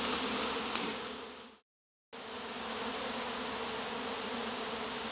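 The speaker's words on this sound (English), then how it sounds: "So you want me to stir these bees up, Alan?" A decent-sized hive of bees that has been stirred up gives a steady, dense, close-up buzz of many insects, broken by a brief half-second of silence before the drone resumes at full strength.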